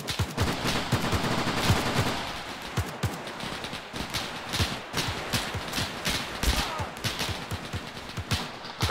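Rapid gunfire crackles in ARMA 3, a dense mix of single shots and automatic bursts, some near and sharp, others more distant, continuing steadily throughout with no talk.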